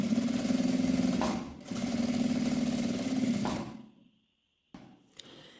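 A sewing machine topstitches fabric for an accordion-style wallet, running in two steady, fast humming bursts with a brief pause between, then stopping into near silence followed by faint handling clicks.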